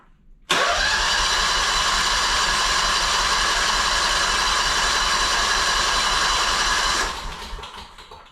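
A 2-cylinder Honda engine that sat unused for ten years cranks and catches abruptly, then runs at a loud, steady, buzzing drone for several seconds before the sound softens and tapers near the end.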